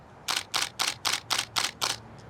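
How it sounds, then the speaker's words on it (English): A Nikon D800 camera fires its shutter at high frame rate: seven sharp, heavy clacks in quick, even succession, loud and close, with no talking. "the shutter sounds like an anvil banging around inside this thing"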